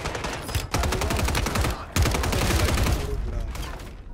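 Rapid automatic gunfire in the shooter game Warzone 3, dense bursts of close shots with brief pauses between volleys, a continuous loud barrage with faint voices underneath.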